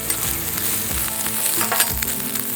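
Bacon sizzles steadily in a pan, a dense close crackle with scattered louder pops, no voices over it.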